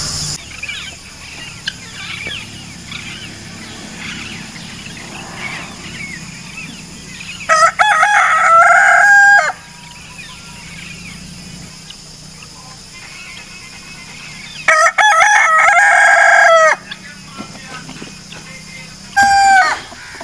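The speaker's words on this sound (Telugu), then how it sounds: "మన కోడి పుంజులు చూడండి ఎట్లా కూస్తున్నాయో" Roosters at a eucalyptus nursery crow loudly in three separate long calls spaced across the stretch, with quieter outdoor background and faint birds between them.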